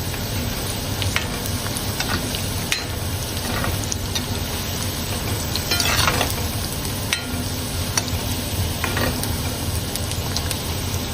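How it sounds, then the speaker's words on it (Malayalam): Cauliflower florets crackle and sizzle as they fry in hot oil for a crispy Kerala street-style snack, with scraping stir noises scattered throughout. The frying is close, steady and continuous, with no voices. "ഇനി നമുക്ക് ഇത് വറുത്ത് കോരാം, കോരിയെടുക്കാം."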